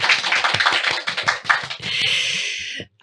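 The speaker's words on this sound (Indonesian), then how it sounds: "Kita kasih tepuk tangan dulu dong buat Tante Bo" Applause from an audience honoring Tante Bo on her retirement after 31 years at Metro TV, a dense burst of clapping that swells and then thins into a steady wash before cutting off.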